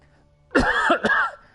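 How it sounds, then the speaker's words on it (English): A single rough cough with a throaty catch, short and close, rising out of near silence and fading quickly. "Excuse the cough."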